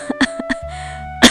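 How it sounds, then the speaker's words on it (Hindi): A sick woman, bedridden for a week, coughs several times: four quick, close hacks in a row, a short pause, then one louder, harsher cough. "देख रही हो कितनी खांसी आ रही है।"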